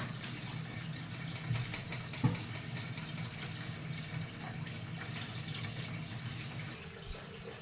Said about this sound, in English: now the water begins running out from here